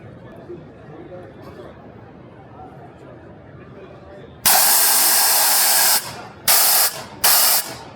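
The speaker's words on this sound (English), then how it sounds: "Hey, Paul, you want to spray that?" Pressurized bottles spraying at the PRI 2024 trade show: one long hissing blast of about a second and a half, then two shorter bursts, loud and close. Background crowd chatter runs quietly throughout.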